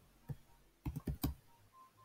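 A computer keyboard is used to type a short name, giving four crisp keystrokes in a quiet room: one single press, a pause, then three quick taps close together.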